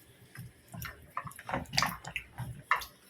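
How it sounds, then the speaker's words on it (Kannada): Taro root washed by hand in water, with close splashing, sloshing and dripping in irregular bursts as the soil is rinsed off the roots. "ಈ ಥರ ಎಲ್ಲ ಚೆನ್ನಾಗಿ ವಾಶ್ ಮಾಡಬೇಕು."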